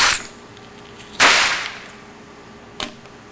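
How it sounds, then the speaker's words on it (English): A firecracker char case bursting after its fuse is lit: sharp loud cracks, one at the start, a big bang with a decaying tail, then a smaller pop. "Lighting the fuse, it'll get all charred on the inside. And it will explode."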